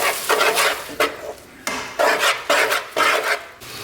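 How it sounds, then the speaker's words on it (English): A utensil stirs a mixture with Velveeta cheese slices in a pan, making repeated loud close scraping strokes in a steady rhythm, each sweep a rough rasp against the metal with short pauses between. "Then we'll just stir all this up."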